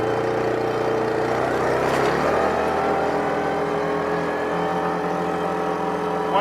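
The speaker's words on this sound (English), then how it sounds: "It's the 2009 Yamaha Rhino 700 cc's." The engine of a 2009 Yamaha Rhino 700cc utility vehicle in 4-wheel lock revs up sharply, then settles into a loud, steady whining drone close by.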